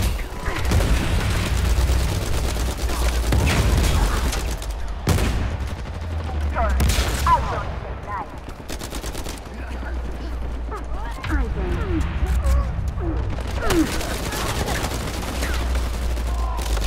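Combat in the video game Uncharted 4, where a sniper rifle fires among rapid gunfire bursts and booming impacts, with a player speaking over the fight and quieter gaps between volleys.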